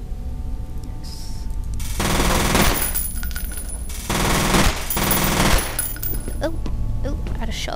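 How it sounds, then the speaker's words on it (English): Loud automatic gunfire from the F.E.A.R. video game blasts a wooden board away in repeated heavy bursts. The fire stutters and pauses between volleys over game background noise. "Oh, I just shot a board away."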